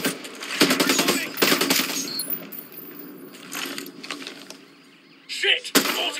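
Automated gun turret in Ghost Recon Breakpoint firing in rapid bursts, with broadband cracks that start and stop through a busy firefight. Voices are heard at times.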